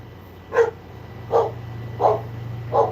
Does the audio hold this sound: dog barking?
yes